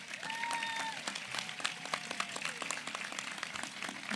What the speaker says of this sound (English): Can we give our graduates one more round of applause,